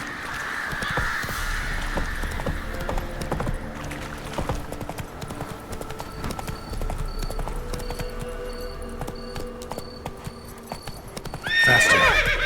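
Roach the horse in The Witcher 3 moving over ground, rhythmic hoof clip-clops with a whinny, crows cawing and game ambience behind, steady and moderately close, ending in a louder burst.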